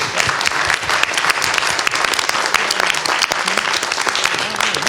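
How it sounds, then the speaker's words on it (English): Audience at a city arts, culture and special events committee session gives panelists a loud, dense round of applause that stays steady and continuous throughout. "So we can do one more huge round of applause for them."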